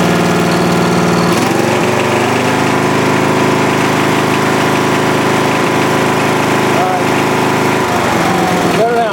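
A Briggs & Stratton engine with a rebuilt Flo Jet carburetor runs steadily, a loud close buzzing drone that rises and falls slightly in pitch as the throttle changes.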